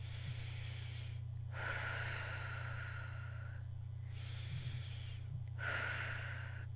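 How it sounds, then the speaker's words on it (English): Three slow, deep breaths, each a long airy inhale or exhale lasting over a second with quiet gaps between them, sound close and soft over a steady low hum. "Take a couple of good deep breaths."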